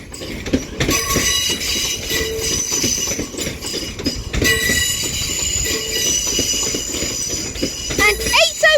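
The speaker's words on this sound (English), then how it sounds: "805010 is at the front with the 1455 Avanti West Coast service to London Euston from Chester and Holyhead." Avanti West Coast class 805 train, unit 805010, passing at Crewe on the West Coast Main Line, a loud rumbling roll with clattering wheels and high metallic squealing, running continuously and close.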